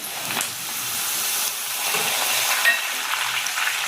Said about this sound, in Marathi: लो फ्लेमवरतीच आपल्याला हा कढीपत्ता छान असा तळून घ्यायचा